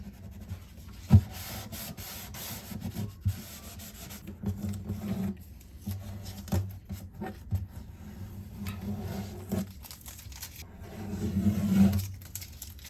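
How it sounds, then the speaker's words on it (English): Soft, irregular rubbing and wiping strokes as excess shellac is wiped off the wood of a 1969 Martin D-28 guitar, close and fairly quiet, with a few sharper scuffs and a slightly louder stretch near the end. "I'm just wiping some of this excess shellac off here"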